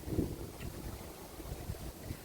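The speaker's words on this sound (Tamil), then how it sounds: "ரொம்பவே காற்று அடிக்குது" Strong wind buffets the microphone on an old British-built bridge, a steady low rumbling roar with gusty fluctuations throughout and no talk.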